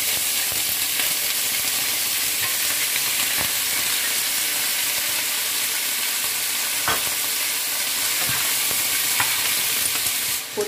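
Seafood sizzles loudly in a hot pan while a spicy macaroni dish is cooked, a dense, continuous frying hiss with occasional stirring clicks and pops close up.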